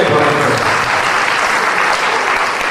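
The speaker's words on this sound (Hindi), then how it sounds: "ताली बजाकर स्वागत करें" Loud, close applause erupts from an audience at a Bhagavat religious discourse, welcoming honored guests with dense, continuous clapping, and voices are faintly mixed into the sound.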